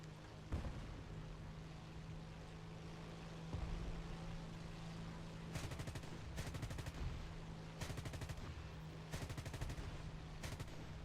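Aircraft cannons and machine guns on a German-flown Hawker Tempest Mk V in War Thunder fire in several loud rapid bursts over a steady droning engine, with single sharp shots early on.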